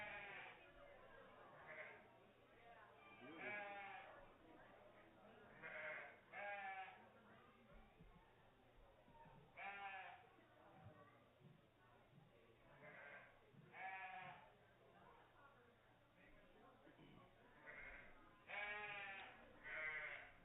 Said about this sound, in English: Got a nice sheep here.